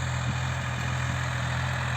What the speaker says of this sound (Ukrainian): Трактор Соліс, 4 борони.